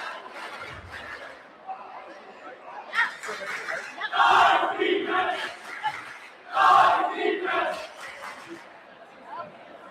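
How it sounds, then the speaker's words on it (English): Players at a school dodgeball event cheer together as seniors and juniors are called out, loud group shouts rising in repeated bursts over crowd chatter and hubbub in a gym. "I need a cheer from all of your players"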